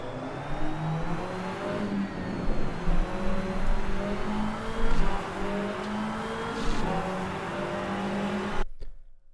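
McLaren race car engine in the Rennsport racing game, a steady high-revving drone with rising and falling harmonics as it climbs through the gears, loud and continuous before cutting off abruptly at the end.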